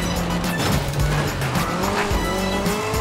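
A Nissan Silvia K's S14 drifts in Forza Horizon 5. Its engine drones with a steady pitch while the tires squeal continuously as the tail slides, loud and sustained for the whole stretch.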